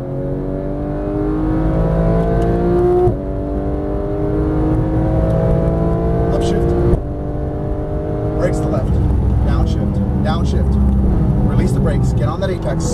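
A Porsche 911 GT3 of the 991 generation accelerates hard on a race track, its engine note climbing in long rising sweeps broken by quick upshifts, loud and close, with talk over the engine.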